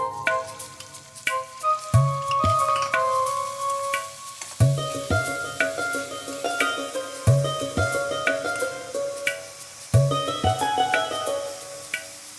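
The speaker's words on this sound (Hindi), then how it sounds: "धीमी आंच पे तेल गरम कर लेते हैं। अब हम प्याज को भून लेते हैं।" Onions frying in oil over low heat for a prawn masala curry, with a soft continuous sizzle, repeated clacks and scrapes of a spoon stirring in the pan, and occasional ringing metallic taps.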